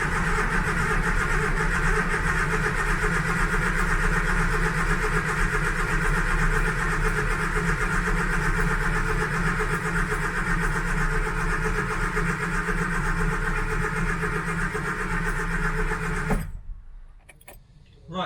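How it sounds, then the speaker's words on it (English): An Austin Allegro with a 1275cc engine cranks over continuously on the starter with the coil disconnected, a loud, steady churning drone heard up close for about sixteen seconds before it abruptly stops. "We're just going to crack the engine over until this light goes out."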